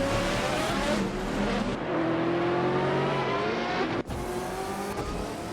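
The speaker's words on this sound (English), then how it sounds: "We're heading to the famous Circuit de Monaco, with cars from the GTR class" GTR-class race cars such as a Koenigsegg CCGT roaring around the Circuit de Monaco street track in a racing video game, engines droning and shifting pitch continuously, loud and close, with a brief sharp dip near the end.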